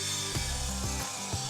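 A wooden roof rafter is cut with a saw, giving a continuous loud rasping drone with a few rhythmic strokes, alone without voices.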